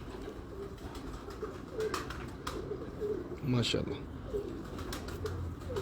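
Pigeons coo softly in a loft in Multan, low rounded calls repeating beneath a voice that speaks briefly, with a few brief chirps mixed in.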